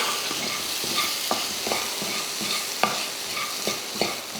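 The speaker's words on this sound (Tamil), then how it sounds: "தக்காளி வந்து ரொம்பவும் வதங்க வேணாம் லைட்டாக அந்த வதங்கினா போதும்" Tomatoes and chopped boiled eggs sautéing in a pan for egg masala, a steady close sizzle broken by regular clinks and scrapes of a spoon stirring against the metal, with no voices.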